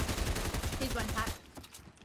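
A short burst of rapid gunshots in Fortnite comes fairly quiet and close for just over a second. Then it drops away to faint game ambience.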